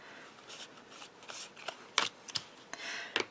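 Scissors trim a sheet of acetate for a handmade card, making faint, crisp snips and light papery rustles at close range in a quiet room.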